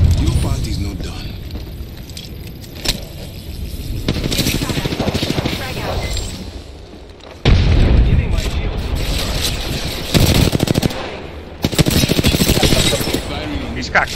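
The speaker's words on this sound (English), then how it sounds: "Throwing an Arkstar. Tossing Arkstar. Thermite out." Grenade blasts from an Arkstar and a thermite throw in Apex Legends, several loud bursts with crackling, ratcheting mechanisms and gunfire between them, all layered under the sound of a talking voice.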